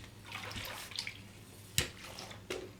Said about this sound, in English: Put my mop head in there. And that'll stir up the solution.